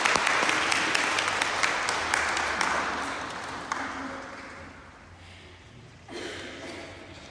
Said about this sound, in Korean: 우리 인사할 때 박수로 격려하여 주시기 바랍니다